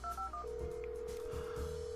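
Telephone keypad dialing tones from a video game, several short beeps followed by a long steady ringback-style tone, clear and close, with no talking.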